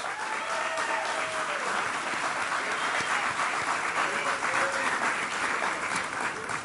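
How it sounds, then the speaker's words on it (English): Graduation audience applauding teachers at the East Hartford Synergy ceremony: a steady, dense round of clapping from a large crowd, sustained evenly throughout with no break. "So let's give a round of applause to all of our teachers."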